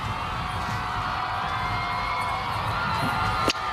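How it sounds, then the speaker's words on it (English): A large crowd on the National Mall in Washington cheers steadily during Barack Obama's inauguration, a continuous distant roar of many voices with no clear speech on top. "what you're hearing in the background is the crowd on the mall"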